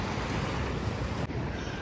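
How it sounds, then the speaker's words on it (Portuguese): Small ocean waves wash around the feet on a beach at Praia dos Namorados in Guarapari, a steady hissing wash of surf heavily mixed with wind rumble on the microphone, with no talking. "Tamo aqui curtindo as ondinhas aqui nos pés."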